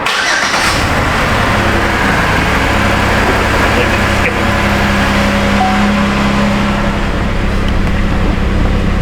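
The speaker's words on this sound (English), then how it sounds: "it sounds like we definitely got misfire" A Chevy Impala that sat for two years cranks and catches, its engine running rough with a misfire, a steady loud idle rumble lasting throughout, close up, with a brief voice near the start.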